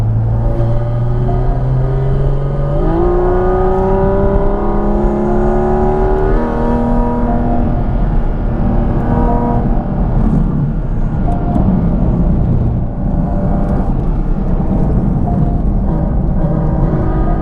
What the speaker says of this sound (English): It's just me and this Miata now, so we'll see what speeds we get.